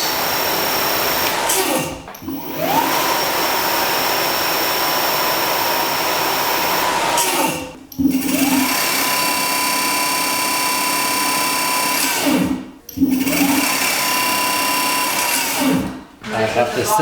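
Solar Hyperion electric scooter motor run at full throttle, a loud steady whine rising in pitch as it spins up, repeated in three bursts separated by brief drops, with someone talking over it.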